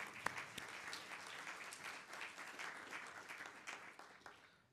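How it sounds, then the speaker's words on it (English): An audience at a higher education summit gives a round of applause, a dense, steady patter of many hands that stays fairly faint and distant and tapers off toward the end. "let's give them a round of applause"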